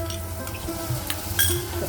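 Chopped tomatoes frying over onions in a pan for Marathi-style moringa (drumstick) curry, giving a steady, close sizzle with a few soft stirring scrapes and no talk.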